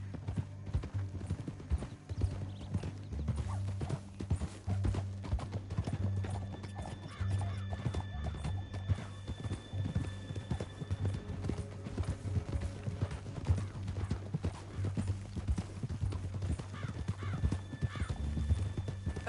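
Horse hooves clop rapidly and steadily at a gallop in the video game Red Dead Redemption 2, with an occasional whinny, over a low rumbling background.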